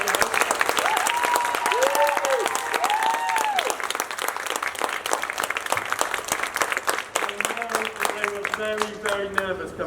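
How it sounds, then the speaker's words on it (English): Sustained applause from a school assembly audience for a Year 4 class of performers, loud dense clapping filling the room with voices talking and calling over it throughout. "can we have a massive big round of applause for these wonderful,"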